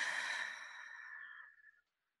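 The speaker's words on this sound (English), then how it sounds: "let's take a nice deep breath" A long, slow exhale of a deep breath, soft and breathy, steady for about a second and a half before tapering off into silence, close and alone with no talking.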